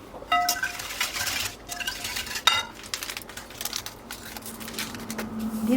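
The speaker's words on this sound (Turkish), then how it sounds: "1 paket kuru maya ekleyerek tüm malzemeyi karıştıralım" A spoon stirring milk, sugar and dry yeast together in a bowl, with repeated clinks and scrapes of utensil against the bowl in an irregular rhythm, close and fairly quiet.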